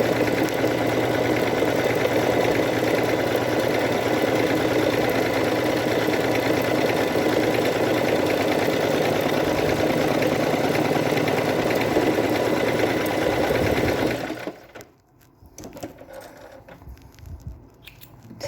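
A sewing machine fitted with a rolled hem foot stitches a rolled hem in fabric, running continuously with a fast, even mechanical whir for about fourteen seconds before stopping, followed by faint handling sounds.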